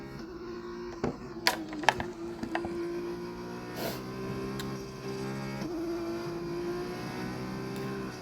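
A race car in an F1 racing video game drones at high revs with a steady, sustained engine whine that rises and falls gently, punctuated early by a few sharp clicks, without talk over it.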